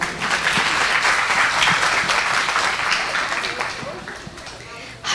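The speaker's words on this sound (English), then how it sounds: "Round of applause for them," Audience at a Sunday school term-end presentation claps for the students, a full burst of applause that thins out and fades over about five seconds.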